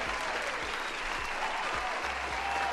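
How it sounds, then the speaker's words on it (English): A round of applause from an audience fills the whole stretch, steady dense clapping at even loudness with no pause. "Round of applause."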